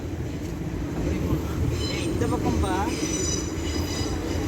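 A Paris metro train on line 6 runs at Bercy station, a loud rolling rumble with rail clatter and a brief squealing wheel tone, while someone speaks over it.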